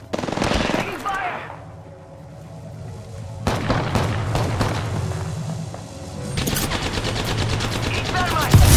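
Gunfire in Apex Legends during a ranked Bangalore match: dense automatic bursts at the start, a lull, then renewed rapid fire with booming impacts, loud and close, with game voice lines mixed in.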